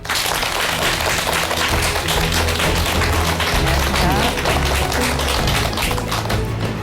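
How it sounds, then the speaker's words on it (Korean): An audience applauds a guest being welcomed onto the stage of a Korean talk-lecture program, a dense, steady wash of clapping that carries through with a low hum and a voice underneath. "여러분 큰 박수 부탁드립니다"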